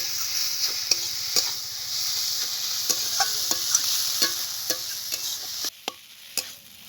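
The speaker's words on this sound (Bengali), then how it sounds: "আমি আর একটু সর্ষের তেল দিয়ে দেবো এবার কিছুক্ষণ নেড়ে চেড়ে নামিয়ে নেব" Water spinach fries in mustard oil while a spatula stirs it, sharp regular scrapes and taps over a continuous close sizzle that drops away briefly near the end.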